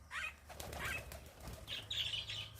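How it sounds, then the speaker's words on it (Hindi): Pigeons at a farmhouse flap their wings in several quick, close fluttering bursts, with faint bird chirps scattered between them and no talking. "ये कबूतर हैं।"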